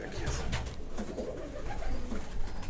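Pigeons in a loft softly cooing, low repeated throaty coos close by with faint rustling, no talk over them.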